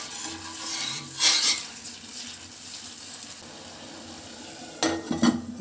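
Tamarind cooks in a pan with soft sizzling, and two bursts of stirring and scraping come from a utensil against the pan near the start and again at the end.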